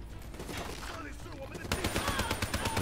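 Rapid bursts of automatic gunfire in the Call of Duty: Black Ops III video game, steady and dense before growing louder and heavier partway through, mixed with in-game voices and music.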